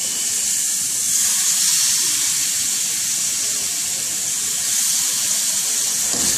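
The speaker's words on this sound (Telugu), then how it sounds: "కొద్దిగా వాటర్ పోసుకోవాలండి." Water poured into a pan of mettallu curry on the stove, a loud, steady hissing rush close up, with no talk.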